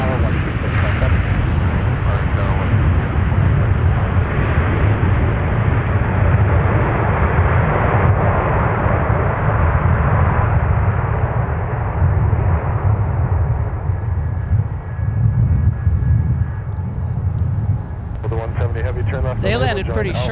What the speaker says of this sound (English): Pretty smooth touchdown to boot as well.